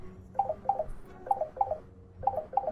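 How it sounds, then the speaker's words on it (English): A phone ringing nearby in a room, its electronic tone repeating in short paired bursts with brief gaps between, moderately loud and alone without talk. "My phone is ringing."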